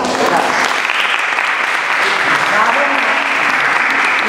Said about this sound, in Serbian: Tako da ja volim jedan aplauz za organizatora.